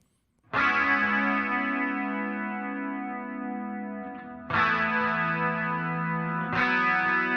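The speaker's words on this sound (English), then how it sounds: "we have the clean part of the bridge, and this one is just 2 guitars here" Sustained clean electric guitar chords ring out, with fresh strums restriking near the middle and end; no voices.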